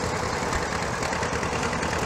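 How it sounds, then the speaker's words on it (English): A 1938 unstyled L tractor with a 66-cubic-inch Hercules-derived engine runs at a steady idle during a parade, giving a continuous low rumble with a rough, dense texture and no talk over it. "Vern Johnson Tractor, 1938, unstyled L."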